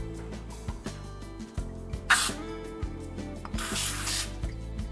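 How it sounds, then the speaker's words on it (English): Baking spray hissing from a can into ramekins in a home kitchen while preparing molten lava cakes, a few short bursts of spray between clinks and handling sounds, close and fairly quiet. "I'm going to spray it with some baking spray."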